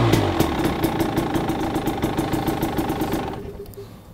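Cold-started KTM, Husqvarna or GasGas dirt bike engine idling steadily up close with a fast, even pulsing beat, then cutting off as the sound fades near the end.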